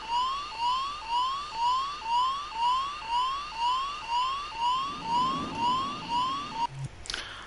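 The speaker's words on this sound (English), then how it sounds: "The alarm sounds and you get black smoke coming out of it." A crashing aircraft's alarm in the Dreams PS4 game sounds a rapid, repeating rising electronic wail, steady and loud for several seconds before it cuts off abruptly into a brief burst of noise.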